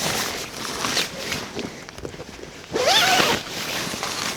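A zipper is drawn open on a camping expedition gear setup near Kennicott, one short rasping pull after some quiet handling noise, close and fairly loud.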